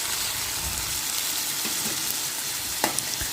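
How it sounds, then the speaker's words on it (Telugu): Chopped onions and green chillies hit hot oil for a brinjal and tomato curry, hissing in a steady bright sizzle with a couple of sharp spatter pops near the end, close and alone. "ఆయిల్ హీట్ అయిన తర్వాత కట్ చేసి పెట్టుకున్న ఆనియన్స్ పచ్చిమిరకాయలని వేసుకుంటున్నానండి"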